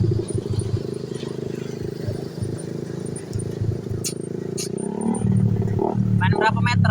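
A motorcycle with an aftermarket exhaust revs and rumbles in bad weather in Palembang, a loud, close, throaty drone that swells louder toward the end, with a voice heard faintly alongside.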